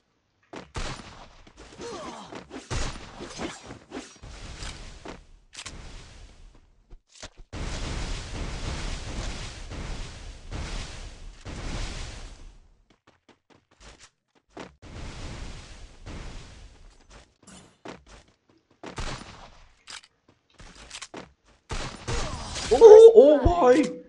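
Gunfire and grenade blasts from an online shooter video game come in scattered bursts and volleys, ending in a loud close explosion, with players talking over the action.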